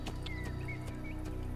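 Hooves of a ridden horse in Assassin's Creed clop at a steady, quick rhythm, close and clear, with a brief whinny mixed in over the movement.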